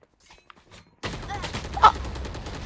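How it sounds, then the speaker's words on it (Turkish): Gunfire from a Fortnite-style battle royale video game, a dense burst of shots starting abruptly partway in and continuing steadily to the end, with one louder crack near the middle; faint game sounds come before it. "O Scream'i vuracağım"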